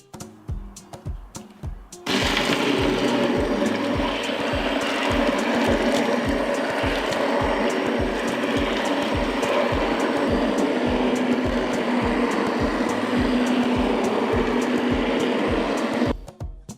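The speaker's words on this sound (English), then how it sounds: "Now I will chop the plums with a stick mixer." Stick mixer whirring continuously in a pot of cooked plum jam, starting abruptly after a brief quieter stretch and running loud and steady with a rhythmic ratcheting churn until it cuts off near the end, close and without speech.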